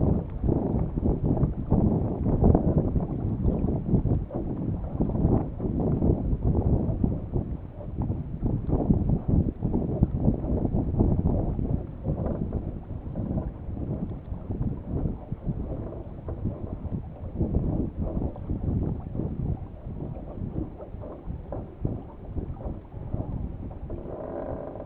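A Potter 15 sailboat moves briskly across a lake in good wind, with continuous rushing wind and water noise buffeting the microphone, steady and fairly loud without speech.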